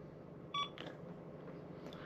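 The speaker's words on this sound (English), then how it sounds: "On the BCA radio, it's turned on here. get a beep there as well." A short electronic beep from a BCA Link 2.0 avalanche radio being switched on, a brief clean tone followed by a second faint chirp against steady low background hiss.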